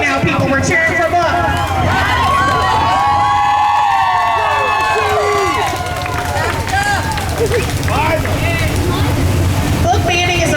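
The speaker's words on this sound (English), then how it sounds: "We're cheering for books right now" A crowd at a No Kings Day rally in Bell County cheers, whoops and claps loudly and continuously, with shouted voices mixed into the sustained roar.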